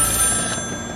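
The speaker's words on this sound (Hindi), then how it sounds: "जब टेलीफोन की घंटी बजी" A telephone bell rings in one brief, bright burst lasting about a second, steady and fairly loud, with no voices.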